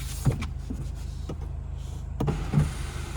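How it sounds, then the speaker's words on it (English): A steady electric motor whine inside a Mazda 6, with a couple of soft mechanical clunks as the sunroof slides open. "Pull up at this and it opens the sunroof."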